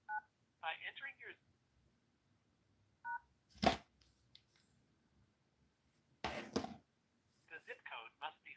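An automated phone line for setting up a new number takes a zip code as telephone keypad DTMF tones, with a few short beeps spread across the clip. The recorded system voice talks between them and a louder clatter breaks in twice.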